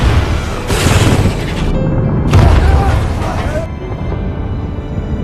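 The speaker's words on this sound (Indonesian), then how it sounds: "Sampai akhirnya torpedo itu pun meledak." Torpedo explosion aboard the Russian nuclear submarine Kursk in a film, a loud, deep rumbling boom with bursts of roaring noise that swell twice before trailing into a low, sustained rumble.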